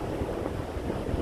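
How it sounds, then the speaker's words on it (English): Steady wind buffets the microphone at a Florida beach, a continuous broadband rush with faint surf beneath and no voices. "it's kind of windy out today"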